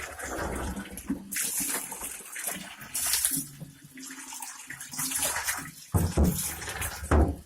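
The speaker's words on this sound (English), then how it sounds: "we will thoroughly rinse out the soap" Water runs and splashes while soap is rinsed out of a rat aquarium, the flow surging and breaking off in uneven bursts, with knocks and handling noises nearby.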